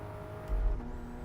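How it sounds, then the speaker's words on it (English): A Toyota Supra racing car engine in a video game with a thin, steady whistling whine on top, heard briefly from the cockpit. "It's got like a whine, kind of whistling whine,"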